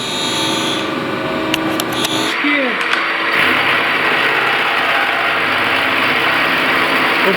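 A 3A227P machine tool milling a workpiece gives a steady, loud mechanical drone with a constant motor hum and a few brief higher clicks early on, heard close up throughout.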